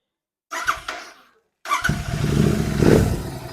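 A Royal Enfield GT650 motorcycle engine cranks briefly, cuts out, then fires up and settles into a loud, close idle that swells into a rev toward the end.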